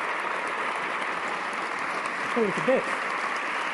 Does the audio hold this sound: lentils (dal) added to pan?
no